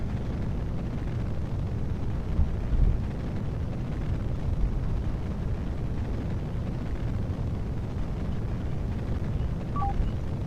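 Steady, dense roar of a rocket in flight in Kerbal Space Program, a constant broadband rumble with little change throughout, with no talking.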